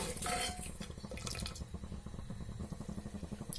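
Bisi bele bath simmers in a pot with soft, irregular bubbling and popping, faint and close, with no voices over it.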